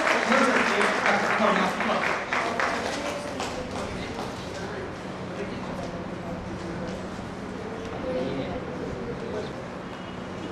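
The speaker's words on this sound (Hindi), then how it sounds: "जोरदार तालियों का स्वागत करिए" Audience applause welcomes a speaker at a literary award ceremony, with moderate, somewhat distant clapping that is strongest at the start and then thins into a softer patter, with room noise and faint voices.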